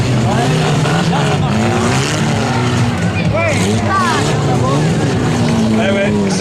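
Stock car engine driving in reverse on a track, a loud droning motor with whining pitch sweeps rising and falling, a commentator talking over it throughout.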